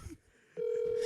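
A telephone being dialed to call someone, a short steady electronic tone starting halfway through after a brief quiet gap, close and clear.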